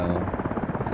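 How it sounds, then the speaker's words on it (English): A helicopter taking off in the DCS flight simulator game, its rotor and turbine a loud, steady, close drone with a rapid rhythmic chop running through the whole moment. "helicopter taking off"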